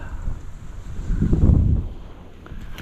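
Gusty afternoon wind on a farm buffeting the microphone, a low rumbling roar that swells in the middle and then eases off.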